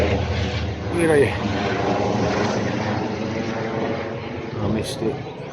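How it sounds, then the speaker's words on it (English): Helicopter passing somewhere over Greno Woods, a continuous distant engine drone with rotor throb sustained throughout, heard on a woodland walk with someone talking over it. "Helicopter somewhere."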